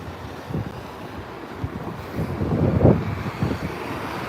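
Wind buffets a microphone outdoors while walking around an amusement park, a rough low rumble that swells and gusts louder toward the middle, with no speech.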